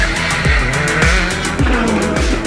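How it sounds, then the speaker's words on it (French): Rally cars roar through a tight hairpin on a village road during the Rallye Vosges Grand Est, several passes in quick succession with rising and falling engine pitch, tyre squeal and skidding, loud and close. "on voit surgir ces voitures à près de 200 km/h"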